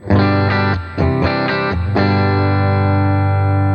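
A clean electric guitar through a NUX Solid Studio MKII amp modeler plays a few quick chords, then lets a final chord ring out and sustain evenly.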